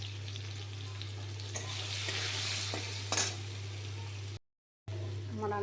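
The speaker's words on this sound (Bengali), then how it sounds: "আমার আলুটা ভাজা হয়ে গেছে।" Potatoes frying with turmeric and salt in a pan with dried chilli and five-spice, a steady sizzle stirred with a utensil, close and fairly quiet, with a constant low hum underneath and a brief dropout near the end.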